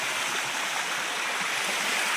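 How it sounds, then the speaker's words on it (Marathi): Rainwater rushes steadily through a filled field channel after heavy rain, a continuous broad hiss and gurgle of flowing water, close and loud with no talk. "तरी बघा पाणी किती चालू आहे"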